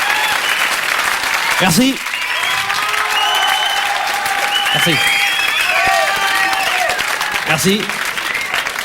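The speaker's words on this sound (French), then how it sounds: "Si vous êtes fou d'applaudir comme ça" Studio audience on a French comedy show applauding steadily for a singer, a dense sustained clatter of clapping throughout, with a voice speaking briefly over it a few times.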